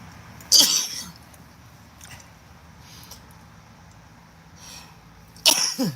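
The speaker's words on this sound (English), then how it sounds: "Oh my gosh, I'm going to sneeze." Two loud, close sneezes from a woman during allergy season, several seconds apart, with quiet breathing and faint sounds in between.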